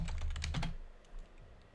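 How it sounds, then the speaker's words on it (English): A computer keyboard being typed on, a quick close burst of clacky keystrokes over the first moments, then a fainter tap or two as the typing trails off, no voices. "Listing let's type in Harry Potter."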